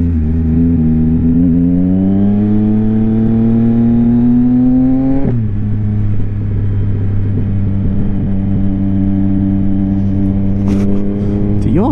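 A 2022 Yamaha XSR900 fitted with a Kelpi Custom Moto shorty exhaust revs up in a steady, rising throaty drone, drops sharply after about five seconds, then settles into a loud lower idle-like rumble throughout.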